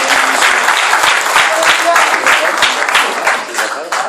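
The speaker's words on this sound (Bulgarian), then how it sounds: "Нека да дадем едно ръкопляскане за хвалението." A church congregation claps for the worship music, dense and loud applause sustained evenly with some voices mixed in.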